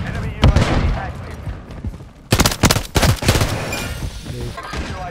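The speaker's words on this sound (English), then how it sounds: "Stun grenade out!" A stun grenade goes off in the video game Call of Duty MW3, a sharp burst of loud blasts amid rapid gunfire, with a thick cluster of bangs in the middle before fading into rumbling chaos.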